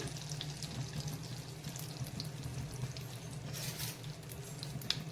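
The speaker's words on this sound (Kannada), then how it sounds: "ತುಪ್ಪ ಕಾದಿದೆ ಇದಕ್ಕೆ ನಾನೀಗ ಗೋಡಂಬಿ ಫ್ರೈ ಮಾಡ್ಕೊತೇನೆ" Cashew nuts frying in hot ghee give a soft, continuous sizzle and patter with occasional faint pops, heard alone over a low background hum.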